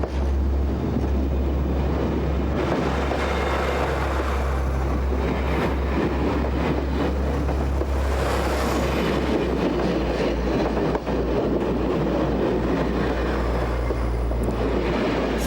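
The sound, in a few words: aluminum diesel passenger train running on rails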